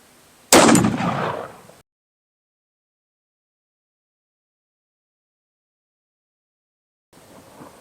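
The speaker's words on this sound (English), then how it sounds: "Here we go with the 460 Underwood ammo." A single loud gunshot from a 460 Underwood round fired at soft body armor cracks sharply and decays into a brief echo, followed by silence.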